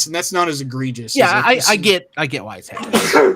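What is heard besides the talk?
sneeze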